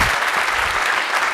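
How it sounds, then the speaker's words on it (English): Audience applause at a conference in Israel, a dense, sustained wash of many hands clapping at steady loudness throughout. "give him a big round of applause"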